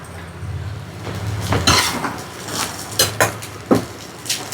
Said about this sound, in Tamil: இப்போ இதில் சோறு போட்டு கிண்டிக்கலாம்